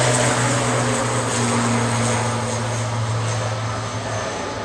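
An Aer Lingus Regional ATR 72-600 turboprop heads out at Manchester Airport with a loud steady propeller drone, strong low tonal hum over a broad engine roar, sustained and close throughout with no talking.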